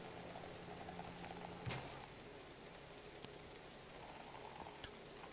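Rain in the driving game Drive Beyond Horizons, a steady faint patter and hiss with a couple of sharper drop-like ticks, no voices.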